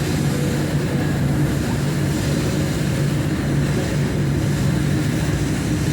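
Steady low rumble and rolling hum of a Jayabaya passenger train running along the track, passing through a tunnel beneath a mall, continuous and fairly loud with no talk.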